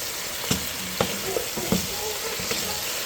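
Catfish adobo in coconut milk is stirred in a pan, with a steady low sizzle and several sharp utensil scrapes and knocks at uneven intervals, close by and with no talking.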